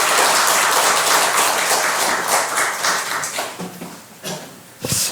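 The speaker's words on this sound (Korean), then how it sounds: "목사님 나오실 때 박수로 환영해 주시면 감사하겠습니다" A church congregation at a Korean worship service claps to welcome a pastor, loud and close at first, then thinning and fading out over the last seconds with a few scattered claps and a brief bump near the end.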